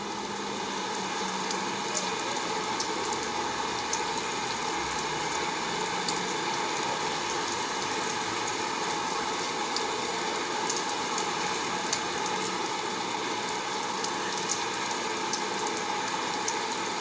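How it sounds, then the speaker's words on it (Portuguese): Steady rain falls outdoors in a continuous, dense hiss of drops on surfaces, even and unbroken throughout with no voices. "chuva."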